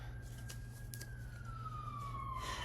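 Police sirens pass outside, a faint, distant wail that slowly slides downward over a steady low hum.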